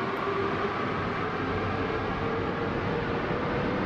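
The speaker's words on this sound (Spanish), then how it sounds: "una linda postal con los dos trenes franceses de Alstom en Chile" Inside a French-built Alstom train on Santiago Metro Line 5 or Line 1, a constant loud roar of wheels and motors rumbles steadily without breaks, and no voices can be heard.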